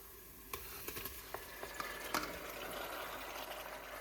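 Boneless beef goes into a hot pot for beef karahi and gives a faint, steady sizzle broken by a few sharp clicks and scrapes of stirring. No one speaks.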